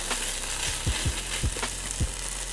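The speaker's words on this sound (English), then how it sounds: "You wanna stir fry it. So we're gonna fry that rice up." Shrimp fried rice stir-fried with a spatula in a hot pan, a steady close sizzle broken by four or five soft scraping thumps as the spatula turns the rice.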